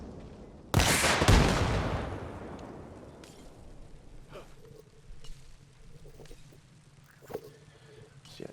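An RPG blast strikes Russian armor in ARMA Reforger: one loud, close explosion whose rumble fades over a couple of seconds, followed by scattered faint clicks and thuds.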